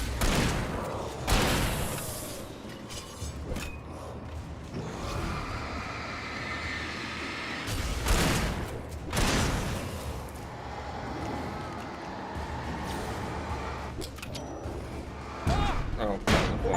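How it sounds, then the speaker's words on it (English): A flashbang grenade goes off in a video game amid a dense run of booming blasts, thuds and gunfire-like bursts that last throughout, with a voice talking over parts of it. "Oh, flashbang."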